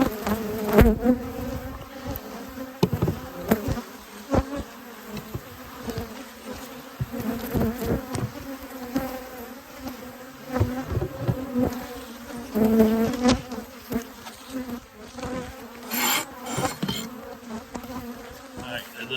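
A dense, steady buzzing of many honey bees swarming around hives close by, droning continuously with occasional louder passes near the microphone.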